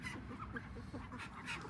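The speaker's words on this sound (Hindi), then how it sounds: "और ये मेरी बतखें हैं।" Ducks and chickens in a farmyard pen give a busy, close mix of quacks, honks and clucks, overlapping continuously through the short stretch.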